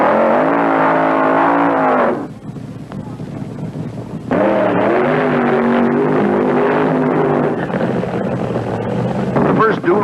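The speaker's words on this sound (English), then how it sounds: "some wild ones burned out of the staging area" Funny car drag racers at the 1973 IHRA Northern Nationals burn out of the staging area, loud blaring engines roaring with rising and falling pitch, a brief lull, then another car thundering close by, with an announcer's voice over the top.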